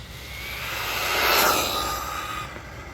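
A brushless Arrma Mojave Grom RC car on 4S power accelerates past at about quarter throttle, a high whining motor rising to a loud peak midway and fading off in a smooth doppler sweep, with no talk.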